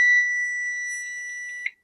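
A kitchen oven timer sounds a steady, sustained electronic beep tone that holds on for nearly two seconds, then cuts off with a brief click, alone with no speech.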